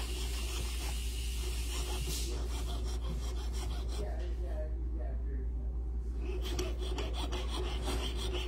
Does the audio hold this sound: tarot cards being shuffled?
no